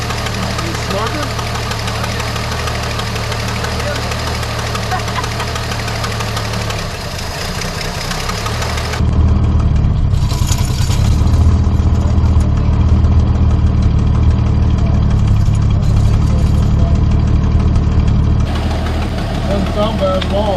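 A 1973 Dodge Dart Swinger barn find runs for the first time in 29 years, its engine idling with a rough, knocking vibration that grows louder and heavier partway through, with people talking over it.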